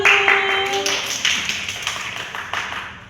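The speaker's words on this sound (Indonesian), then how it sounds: "Beri aplaus dulu." Applause breaks out in a classroom during a microteaching lesson, a quick burst of clapping that fades over about three seconds, fairly close and with no talking.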